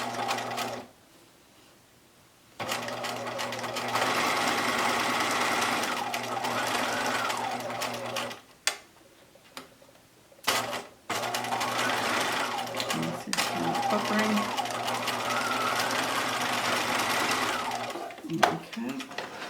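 Long runs of close, loud whirring from a sewing machine stitching a fabric mask, broken by a few pauses with handling clicks, and a person talks at times.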